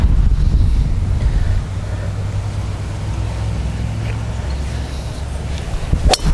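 Strong wind buffets an outdoor microphone, a loud low rumble that is heaviest at the start, then eases to a steadier roar, with a sharp knock near the end.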